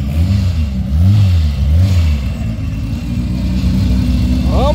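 Loud engine of a VW Gol 4x4 race car at a drag strip, revving and rising through gears in repeated surging sweeps, close and continuous across the whole span.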